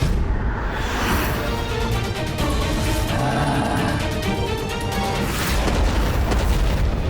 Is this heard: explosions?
yes